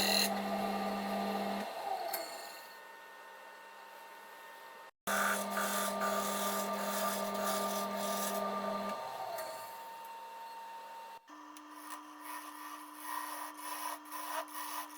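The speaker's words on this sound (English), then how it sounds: "I'm just cleaning the shape up with a carbide detailer, also homemade." A wood lathe hums as a homemade carbide detailer cleans up a turned shape, with a steady motor tone under rasping, scraping cuts in several separate stretches, close and moderately quiet.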